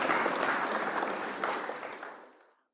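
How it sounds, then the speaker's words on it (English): A workshop audience applauds in a dense burst of clapping that holds steady, then fades away to silence near the end. "give Quỳnh Anh a clap, a big clap one"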